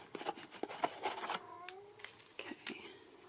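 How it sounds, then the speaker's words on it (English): A pet cat meows repeatedly from behind a closed door, a few drawn-out, rising cries spread through the moment, fairly faint and slightly muffled with light room noise between. "I wonder if you can hear my cat meowing."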